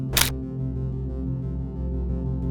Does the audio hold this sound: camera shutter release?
yes